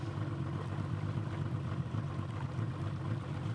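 A police boat on a river at South America's Triple Border, its engine a steady, continuous drone close by with no speech.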